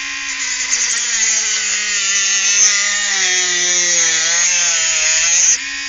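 A Dremel rotary tool cuts a notch into a steel cable bike lock with a loud, steady high-pitched grinding whine that holds continuously up close and cuts off abruptly at the end.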